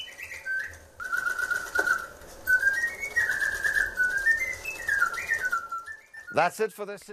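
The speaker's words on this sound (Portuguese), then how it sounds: "a precisão do piar destes pássaros é extraordinária" Birds call in clear, whistled phrases that rise and fall, near and fairly loud, continuing almost without pause before a short burst of different chirps at the end.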